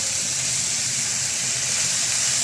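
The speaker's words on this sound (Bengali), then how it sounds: "এটা এখন পেঁয়াজ মরিচ রসুন দিয়ে তেলে ভাজি করে নিতেছি" Bot-boti frying in hot oil with onion, chili and garlic makes a loud, steady, dense sizzle with no break, close up and alone.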